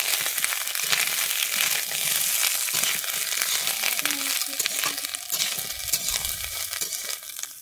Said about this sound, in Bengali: এবারে আমি দিয়ে দিচ্ছি ভেজে রাখা আলুটা, আর দিয়ে দিচ্ছি ঝিঙেটা দিয়ে আমি ভালোভাবে নেড়ে নিচ্ছি